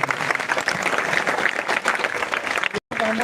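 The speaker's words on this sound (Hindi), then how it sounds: "प्रशांत जी का एवं सारे पदयात्रियों का जोरदार ताली बजाकर स्वागत कीजिए" Villagers in Belwa clap vigorously to welcome Prashant Kishor and the Jan Suraaj padyatra marchers, a dense, loud burst of applause with crowd murmur, cut by a brief dropout near the end.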